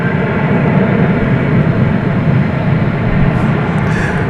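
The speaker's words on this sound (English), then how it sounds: "That was a 737 MAX 8." Boeing 737 MAX 8 airliner at DFW Airport, its engines producing a loud, steady broadband roar that fills the whole stretch without a break.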